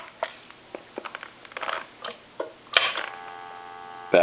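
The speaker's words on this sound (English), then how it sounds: "Back to dial tone." A Crosley wood wall telephone, being repaired, gives a steady dial tone that sets in after about 2.7 seconds, following a run of soft clicks and handling taps. It sits close and fairly quiet, with a brief clunk at the end.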